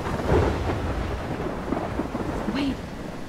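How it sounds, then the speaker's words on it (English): Thunderstorm with heavy rain in the video game Life is Strange: a continuous wash of rain with low rumbling thunder, fairly loud and steady throughout, with no talking. "I'm trapped in a storm?"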